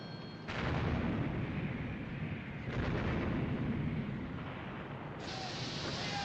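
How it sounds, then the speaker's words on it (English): Warship gun turrets fire in a naval battle at the River Plate, sending heavy booming salvos that roll into a sustained rumble, with fresh blasts breaking in over the din. "My God, she's firing again! With another 2 turrets."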